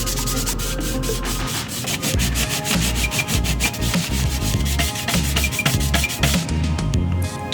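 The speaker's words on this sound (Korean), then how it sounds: "서포터가 붙어있던 부분들은 이렇게 사포질이 조금은 필요합니다." Sandpaper rubs steadily over 3D-printed miniature diorama parts where supports were removed, producing a loud, close, continuous scratchy rasping in quick back-and-forth strokes with no voices.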